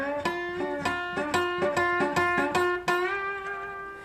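Guitar lick in slide technique, around ten picked notes in a brisk, slightly uneven rhythm, each note ringing over the next, closing on a held note that fades; close and alone with no voices.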